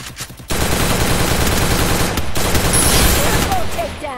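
Rapid automatic gunfire from a shooting video game rattles loud and dense for several seconds, with sharp burst after burst layered over a voice talking.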